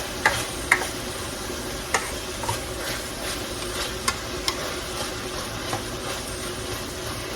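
About three cloves of diced fresh garlic cook in a pot for red beans, giving a steady close sizzle with occasional light clinks of a stirring utensil against the pot.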